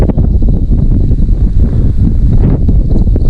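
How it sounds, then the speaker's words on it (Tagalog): Strong, steady wind buffeting the microphone with a constant low roar throughout, no voices. "Grabe lakas ng hangin dito."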